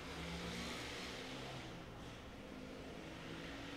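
Motorcycle passing by outside, its engine note rising and falling with shifting tonal whine as it goes past at moderate distance, fairly faint, with no talk over it.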